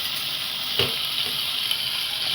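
Tomatoes sizzle steadily in hot oil in a pan for a Madurai-style mutton curry, a continuous close hiss with a faint stir partway through.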